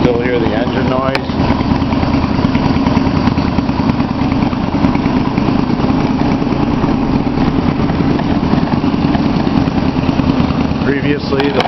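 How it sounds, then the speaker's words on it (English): A Yamaha V Star 250 motorcycle fitted with a West Eagle exhaust runs with a steady, close, low rumbling engine drone throughout, while a person talks over it. "You can still hear the engine noise."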